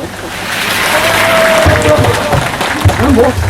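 Applause from a crowd at an outdoor union rally protesting a corrupt city councillor in Jecheon, a broad steady wash of clapping that holds throughout, with a voice briefly heard over it.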